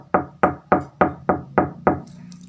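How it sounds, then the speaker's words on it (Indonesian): Seven firm, evenly spaced knocks on a house's front door at night, close and clear, followed by quiet. "Isabella yang sedang tidur mendengar suara orang yang mengetuk pintu depan rumahnya."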